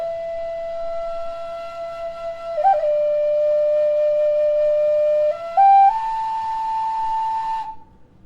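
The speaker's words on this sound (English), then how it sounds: "I would like to introduce you a traditional Truku flute." A traditional Truku flute plays a breathy, sustained melody alone, holding long steady notes that step upward in pitch, with a brief ornament near the middle before the tone fades out.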